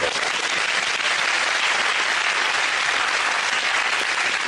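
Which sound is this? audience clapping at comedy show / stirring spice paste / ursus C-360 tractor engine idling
audience clapping at comedy show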